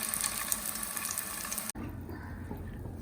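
Potato patties fry in a pan with a dense, continuous sizzle that cuts off abruptly partway through, then leaves a quieter, lower hiss of oil, with no talking.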